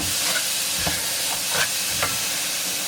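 Onions and ground beef frying in a pan with a salt, pepper and garlic blend, a steady loud hiss of sizzling fat with a few brief scraping stirs, close and continuous.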